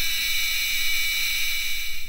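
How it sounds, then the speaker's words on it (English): A buzzer sounds a steady, loud electronic tone that holds without a break for about two seconds, with no talk over it. "A buzzer producing a sound."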